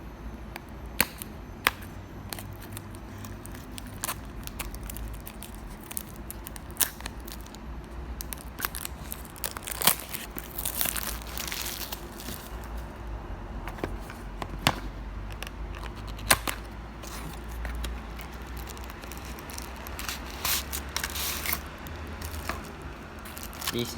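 Packaging rustles and crinkles in repeated short bursts while a tiny Volvo B9TL model bus in SBS Transit livery is unboxed, with sharper snaps and tears scattered through a steady low background hum.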